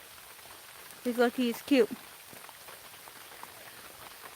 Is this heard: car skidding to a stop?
no